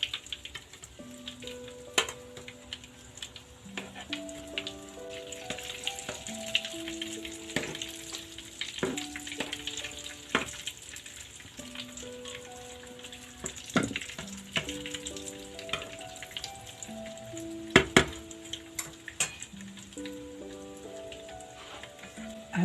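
Yoyo dough rings fry in hot oil with a steady close sizzle and crackle, bright popping bursts scattered throughout, alone with no talk.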